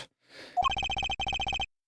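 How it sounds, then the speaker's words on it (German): Telephone rings in the video game Apollo Justice: Ace Attorney, a short electronic chime followed by two rapid bursts of trilling ring pulses, clear and close with no voices. "Ich rief Strafverteidiger Gavin an."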